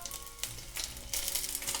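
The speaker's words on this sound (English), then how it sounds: "I'm gonna keep frying like this" Tsukune chicken meatballs fry in a pan, a steady crackling sizzle with bursts of louder spattering, close and continuous, with no voices.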